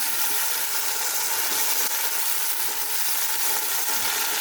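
Sardines frying in a pan with bottle gourd: a steady, bright hiss of sizzling oil fills the whole stretch, with faint stirring scrapes and low clatter underneath, close and unbroken.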